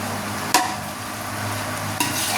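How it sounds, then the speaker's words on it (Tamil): A spoon stirs a spiced yogurt mixture with coriander and mint in a cooking pot for a rice dish. Two sharp metallic clinks stand out over a steady, close wet hiss. "நல்லா கலக்கிக்கலாம்"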